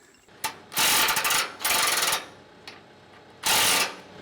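Spanner work tightening a 9-inch bolt on the flotation spring of a Hesston hay mower: three loud bursts of rapid ratcheting clicks, with a short tap between them.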